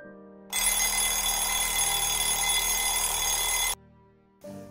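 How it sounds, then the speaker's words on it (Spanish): A loud, piercing alarm clock rings continuously for about three seconds, then cuts off abruptly, leaving near silence before a brief faint burst resumes; no voices are heard. "En ese momento sonó el despertador y Keren se quedó sin la respuesta"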